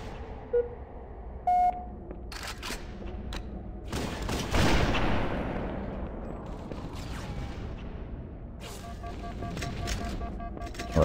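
Gunfire in the video game Halo CE comes as a burst of shots and a heavier blast. Short beeps and electronic tones run through the sound of the match, with a steady game-ambience rumble underneath.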